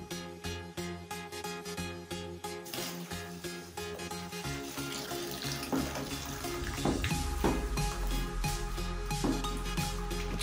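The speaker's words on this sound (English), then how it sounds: "Now, pour the first pure water." Clean sachet water poured from a plastic pack into a container, a steady splashing stream that builds and deepens as the vessel fills, close and continuous with no talking.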